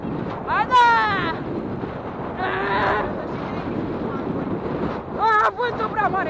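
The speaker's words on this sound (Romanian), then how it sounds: "Vântul prea mare!" Strong wind roars over the microphone while riding a bike through a forest, with loud gusts throughout and a person talking over it in bursts.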